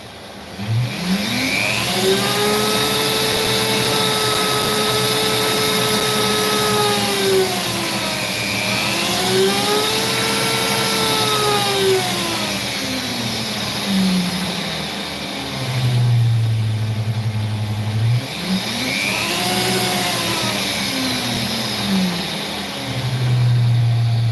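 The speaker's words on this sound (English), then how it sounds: "Messing with the speed of my Dremel." A Dremel rotary tool whines steadily and loudly, its pitch sweeping up and down as the speed changes repeatedly, close by with no speech.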